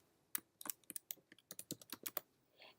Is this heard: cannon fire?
no